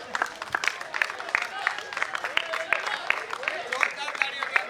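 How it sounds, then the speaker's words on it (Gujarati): A crowd claps for the winning team Spartans 11 at a Western Premier League prize distribution ceremony, with scattered, moderately loud hand claps under a voice talking over them. "જોરદાર તાળીઓ કે સ્પાર્ટન્સ 11."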